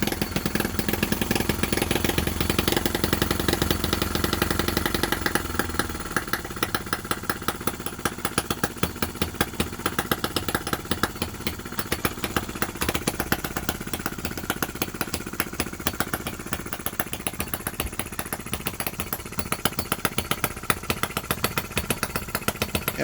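A working miniature Lister D petrol engine runs on its first start with rapid, evenly spaced exhaust pops, louder and denser at first, then settling into a steady, fast idle-like chugging close by.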